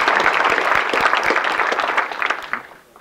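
An audience at a college of natural science annual awards ceremony claps for an absent award winner, a dense burst of applause that holds steady and then thins out and fades over the last second.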